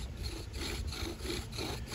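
Rhythmic back-and-forth rasping of a bow drill spindle grinding into a northern red oak fireboard, steady strokes about every half second, close and continuous with no talking.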